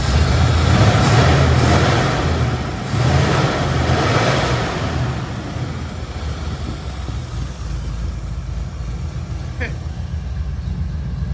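A 1977 Mustang Cobra II engine idles with a steady, low, continuous rumble. It stays loud and even and fades slightly after the first few seconds.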